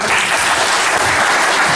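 Audience applause at a jubilee celebration for a professor, a dense steady burst of clapping from a crowd heard close and loud, without speech.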